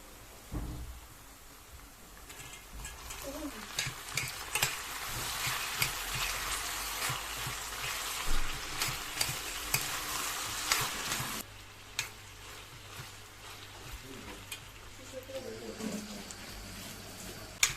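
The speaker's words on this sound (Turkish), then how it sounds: "3-4 dakika daha kavurduktan sonra fasulye turşumuzun kavurmasını hazırlamış olacağız." Pickled green beans sauté with onions and tomato paste in a pan for a Black Sea dish, giving a continuous close sizzle broken by scraping stirs, with a low steady hum joining partway through.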